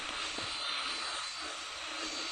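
An airplane flies in a video game, a steady, moderately faint engine roar with broadband hiss held evenly throughout.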